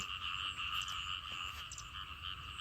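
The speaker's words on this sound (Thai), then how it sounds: "เสียงกบเกียดหองพี่น้อง" Steady chorus of frogs croaking continuously, a dense layered trilling with occasional higher chirps, moderately distant and constant throughout.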